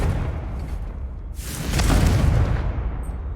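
A Confringo fire spell blasting in Hogwarts Legacy, a booming burst that swells about halfway through and rumbles loudly before fading, over steady game background noise.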